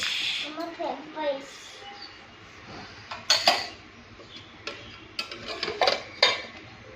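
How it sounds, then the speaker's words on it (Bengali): Dishes and utensils clink and clatter in irregular bursts as they are washed, with a voice talking early on. "এই দেখো বাসন কটা আছে এগুলো মেজে নিই"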